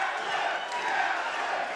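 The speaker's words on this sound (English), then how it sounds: "Listen to this crowd chanting for Kaplan." A wrestling crowd at an Absolute Intense Wrestling show chants for Kaplan, a dense, steady roar of many voices filling the arena without a break.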